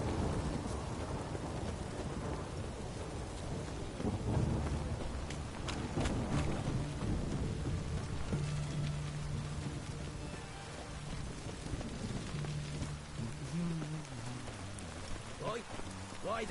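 Thunderstorm in a video game, with steady heavy rain pouring throughout and low rumbles of thunder rolling underneath, a continuous dense wash of weather sound with brief tonal game effects near the end.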